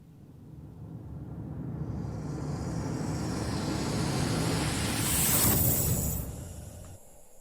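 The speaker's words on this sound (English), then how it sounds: "Rise and Hit allows for those really big, like, trailer-sounding rises with a huge orchestra and a bunch of synths" A trailer-style orchestral and synth rise that swells steadily over several seconds, building in loudness and brightness before crashing into a big boom near the end, then cutting away.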